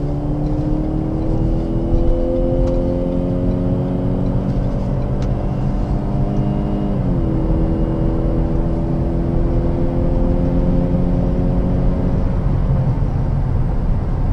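2015/2016 Ford Fusion with the 2-liter four-cylinder EcoBoost engine accelerating onto a highway, a steady droning engine hum rising in pitch, dipping at a gear change, then climbing again under road noise.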